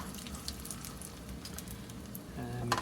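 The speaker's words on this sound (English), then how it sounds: "They're making a nice splattering sound, which is perfect." Potstickers frying in oil in a pan, a soft continuous sizzle with light crackling pops, quiet and close, swelling slightly louder at the end.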